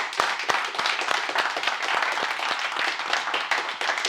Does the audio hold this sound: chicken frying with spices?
no